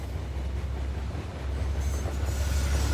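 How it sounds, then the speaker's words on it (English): A train rolls past with a low, steady rumble and faint hiss of wheels on rails, growing slightly louder toward the end, heard on its own without talk. "That's my train."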